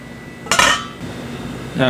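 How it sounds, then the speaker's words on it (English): A shepherd's pie filling with stock stirred in a pot, heard as one short clanking scrape of a spoon on metal followed by a quieter stroke, close by. "Just keep stirring it."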